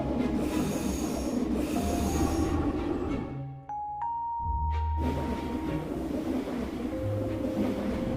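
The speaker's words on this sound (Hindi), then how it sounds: "इतने में उनकी ट्रेन वहां पर आ जाती है" A train pulls into a railway station, its wheels squealing loudly and steadily over a continuous rumble, with a brief lull in the middle before the screech and roar resume.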